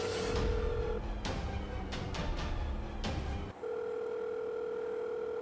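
A steady telephone dial tone hums on a line while a number is dialed again, broken by short bursts of clicks and line noise before the continuous tone returns, loud and close.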